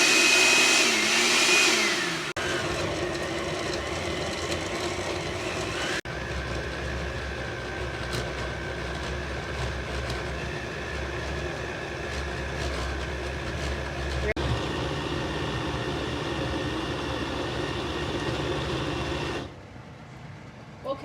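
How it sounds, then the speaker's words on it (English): A kitchen blender chops and purees ingredients for oxtail and beans with no water added, its motor roaring loudly and continuously for about twenty seconds, the pitch shifting a few times as the speed changes, then cutting off. "we're going to blend all these ingredients together."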